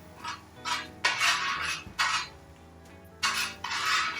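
Utensil scraping and stirring garlic and onions in a cooking pan, a series of rhythmic scrapes and clinks, close and moderately loud with no voices.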